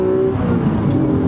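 A 1995 Acura NSX-T NA1 engine revs hard and drops out of VTEC on a short shift, a loud, close, continuous mechanical roar from inside the car.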